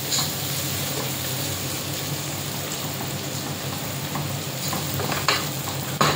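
Onion sizzles in hot oil in a pan while being stirred, a dense, even crackle with a few sharper stirring scrapes toward the end.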